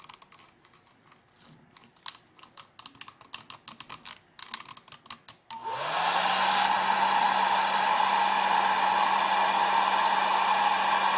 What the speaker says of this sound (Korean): 드라이기로 이제 건조를 할 때는